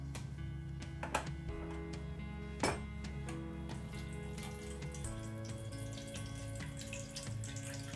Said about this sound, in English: I'm gonna drain out the water and put it in my mixing bowl.